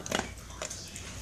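A greedy dog eats food pieces close by, with a couple of short crunchy bites and mouth noises in a brief, fairly quiet burst.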